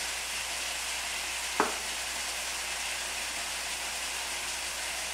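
Mutton with chilli, turmeric, cumin and coriander powders, kasuri methi and curd frying in a kadhai, giving a steady broadband sizzle throughout with one brief sharp clink near the middle.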